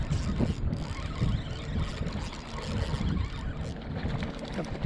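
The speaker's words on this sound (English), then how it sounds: "we got boats coming out the harbor" A low, rumbling engine drone churns steadily nearby as motorboats run out of a harbor on a foggy morning, with no talking.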